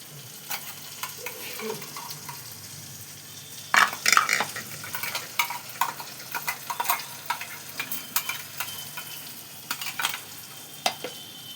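Ginger, dried red chilli, garlic and onion paste fries in a pan for a fish curry, giving a soft steady sizzle broken by intermittent scraping stir strokes and light clinks of a spoon against the pan.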